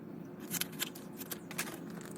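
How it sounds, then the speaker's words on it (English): Scissors cut away the backing paper of a new decal sticker for an outboard engine cowling, giving a few quiet, close snips in a still room. "Halfway to my halfway point and cut away this backing."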